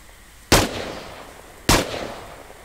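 Two sharp gunshots cracking out about a second apart during a training exercise, each a loud, close blast with a short decaying tail, fired through a backpack at a target.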